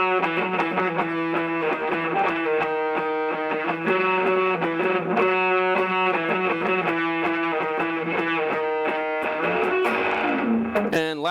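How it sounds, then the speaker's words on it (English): An electric guitar plays through a heavily distorted, broken-up, bit-crushed pedal effect, its gritty chords and notes sustained loudly throughout without pause. "It gets a nice, really almost broken up, kind of bit crushed sound to it in some ways."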